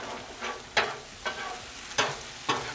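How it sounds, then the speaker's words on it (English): Egg scrambled on a hot hibachi griddle at home, with chicken and shrimp also on the menu: a steady hiss of frying broken by four sharp scraping spatula strokes at a regular pace, close up with no talking. "Scramble that"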